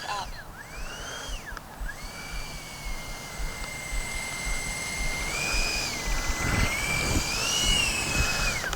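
An FMS A-10 Thunderbolt V2 RC jet flying outdoors, its electric ducted fans giving a loud, steady whine that rises and falls in pitch as it passes, with wind noise and someone talking at times.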